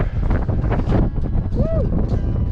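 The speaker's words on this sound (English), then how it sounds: "It's so windy out here." Strong wind from a 60 mph mountain blizzard buffets the microphone in loud, continuous gusts, with a voice shouting over it.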